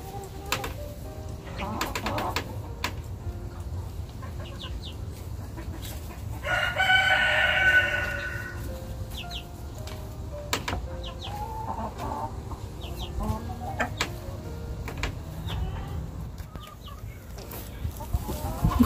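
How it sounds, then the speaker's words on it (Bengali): Backyard flock of egg-laying hens of various breeds with roosters, clucking in short repeated calls with a prominent crow in the middle, set over a steady low background hum. "এগুলি বিভিন্ন ভ্যারাইটির ডিম পাড়া মুরগি।"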